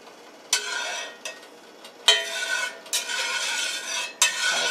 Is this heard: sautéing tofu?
yes